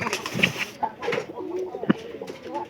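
A flock of pigeons coos together at feeding time, with several soft, throaty coos close by over a light rustle and a faint voice in the background.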